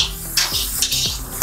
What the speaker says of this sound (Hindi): इसको थोड़ी देर और फ्राई करना है 1 सेकंड के लिए।